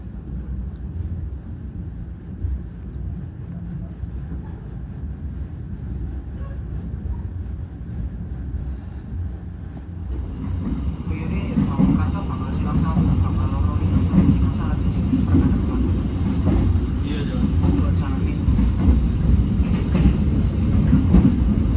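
An economy-class passenger train pulls out of Welengi station in Indonesia, heard from inside as a low rumble that swells after about ten seconds into a louder, rattling roll with faint clatter.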